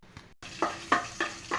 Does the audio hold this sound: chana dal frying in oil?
yes